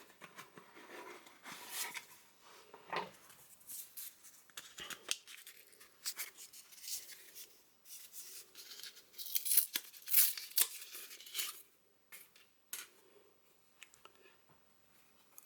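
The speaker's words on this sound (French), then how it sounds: "C'est pas évident d'ouvrir ces boîtes." Sealed box of Futera Unique World Football 2022/23 trading cards being opened: quiet, close cardboard and plastic tearing, crinkling and scraping in irregular bursts, louder near the middle, with no talking.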